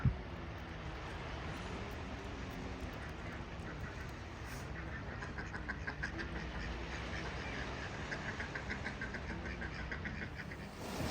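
A large flock of seagulls gathered on the sea at Bar, Montenegro, calling all at once in a dense, continuous, fairly loud chorus of overlapping cries that lasts throughout, with no talking.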